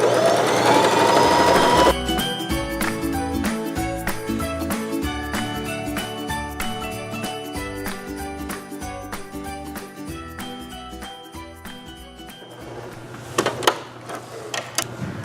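Sewing machine stitching around fiberfill material, a fast, steady mechanical whirr of needle strokes running close and continuously for about ten seconds before stopping, with no talking.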